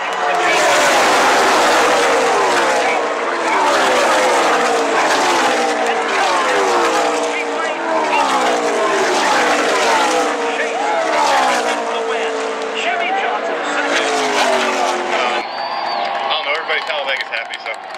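NASCAR stock cars race at Talladega in 2015, their engines roaring and whining continuously as the pack sweeps by, loud throughout, with a commentator talking over the noise.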